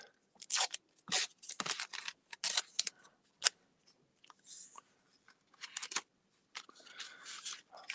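Adhesive tape pulled off a roll in several quick rips and snipped, a run of sharp crackly tearing bursts with short pauses between, close and fairly loud with no talking.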